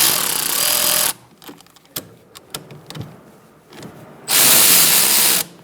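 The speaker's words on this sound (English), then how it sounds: "using a 14mm socket, we're going to loosen up our bolts for the caliper that's holding the pads" An impact or power tool on a 14mm socket buzzes loudly at the rear caliper bolts of a 2002-2006 Honda CR-V, two long harsh bursts framing a stretch of quieter metallic clinks and handling noises.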